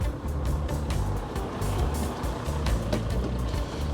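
A truck backs up with its reversing alarm beeping in a steady, regular rhythm over a low diesel engine rumble, moderately close and with no talking.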